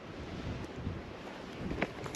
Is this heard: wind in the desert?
yes